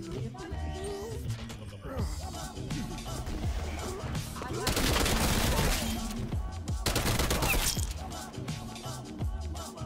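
A Tec 9 fires in Call of Duty Cold War in rapid automatic bursts, with two long, loud volleys standing out over continuous game noise and scattered impacts.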